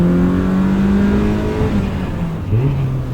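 A sports car engine pulls strongly at the top of its rev range, a loud droning note that climbs, falls with a gear change, then resumes, heard up close from inside.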